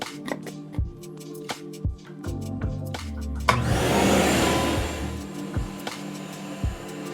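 A vacuum runs during comic book restoration work, a steady whooshing roar swelling for a couple of seconds amid scattered clicks and thumps from handling nearby.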